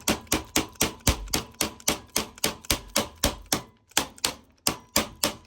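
An improvised tool, used in place of a hammer, taps pieces into place during home DIY work: about eighteen sharp, even knocks in a quick steady rhythm with a brief pause near the end, close and loud.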